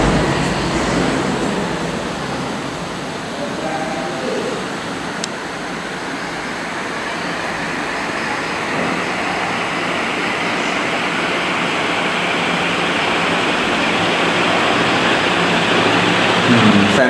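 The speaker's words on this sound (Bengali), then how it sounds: "ফ্যান অন করে দিয়েছে, দেখি ফ্যানের স্পিড কেমন হয়" A battery-powered BLDC DC fan runs at speed, giving a steady, close, broadband rushing whir of moving air that holds even throughout with no talk over it.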